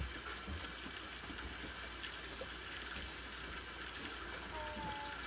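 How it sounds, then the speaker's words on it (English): Water rushes through a camper's plumbing for the first time, a steady broadband hiss and gush that holds at an even level throughout, with a faint tonal whine near the end. "this is the first time the water's been run through the camper"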